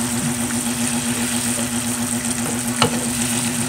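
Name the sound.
stirring sautéed pork with fried tofu in a pan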